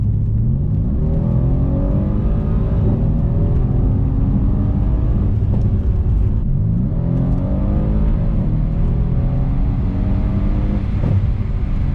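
Mercedes-AMG C63 S engine, 510 hp, accelerating repeatedly in Sport Plus mode, rising whine through the gears with a steady rumble and a few faint exhaust pops, heard from inside the car.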